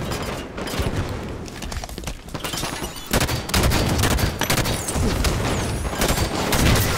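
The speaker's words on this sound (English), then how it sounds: "There's no way that marine can shoot that well." Dense, loud automatic gunfire from a marine's weapon in Halo 5 Warzone, rapid bursts firing continuously with explosive booms layered in, growing heavier in the second half.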